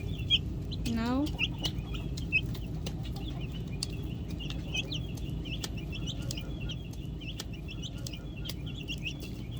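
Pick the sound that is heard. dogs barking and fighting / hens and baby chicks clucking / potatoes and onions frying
hens and baby chicks clucking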